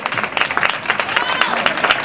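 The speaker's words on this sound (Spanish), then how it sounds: "Con un fuerte aplauso, por favor" Award ceremony audience bursts into loud, sustained applause for the previous year's first-place winner of the CEEDA 2012 awards, a dense crowd of clapping hands with voices mixed in.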